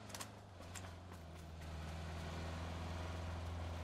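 Vehicle engine in PUBG, a steady low rumble that swells and grows louder over a few seconds as it nears, with faint gunfire-like clicks early on.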